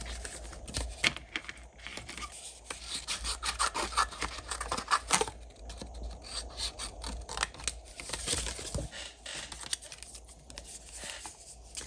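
Scissors cut a die-cut sticker out of card, giving steady rasping snips and rubbing scrapes in an uneven rhythm, close and fairly quiet, for about twelve seconds with no talking.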